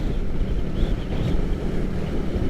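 Strong coastal wind buffets a light bicycle and its rider near the Pacific at Point Reyes, a continuous loud roar of gusts battering the microphone with no speech.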